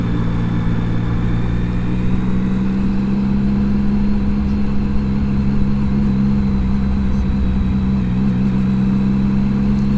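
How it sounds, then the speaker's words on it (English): An old stripped-down US Army military Jeep with a gas can on the back drives nearby on a Tokyo road, its engine a steady mid-pitched drone with a low hum throughout, no voices. "just a classic old style, like an US Army Jeep"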